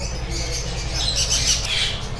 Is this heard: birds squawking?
yes